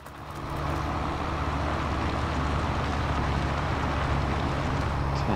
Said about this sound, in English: I'm just going to jump into this tractor.